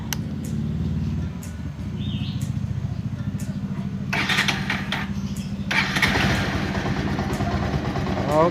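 A Kawasaki Rouser 180cc motorcycle, freshly given an oil change, is started and settles into a close, rhythmic idle that thickens as revs rise midway, while people talk nearby.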